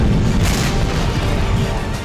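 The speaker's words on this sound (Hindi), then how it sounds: "देखिए कैसे एक के बाद एक धमाके हो रहे हैं" Bunker buster bombs go off one after another in a heavy, continuous rumbling roar of deep booms that run together with no clear gaps, loud and dense.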